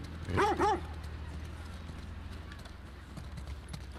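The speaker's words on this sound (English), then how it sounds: "I guess I'll pet the dog." A dog in The Last of Us Part 2 gives two short barks close by over a low steady hum, then only quiet background noise remains.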